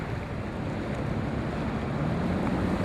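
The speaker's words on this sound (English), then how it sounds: "Going around Venice in a boat" Boat cruising along the canals of Venice, with a steady broadband wash of engine rumble, water and wind noise running continuously and fairly loud throughout.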